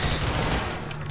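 Dense, rapid gunfire crackles in a video game firefight at a mining outpost, sounding as a loud, continuous burst of overlapping shots with no talking.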